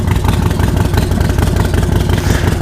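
A Harley-Davidson Iron 1200 motorcycle fitted with a fairing runs steadily on its first ride, its loud, close engine holding a constant low rumble with no breaks and no voices.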